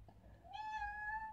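A child imitates a grumpy cat's meow, one drawn-out whiny note that rises and holds, heard close and alone against a quiet room.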